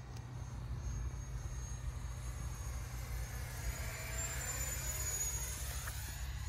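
An E-Flite Viper 64mm RC sport jet flying without landing gear makes a faint, high ducted-fan whine that rises and falls as it passes, over a low steady background hum.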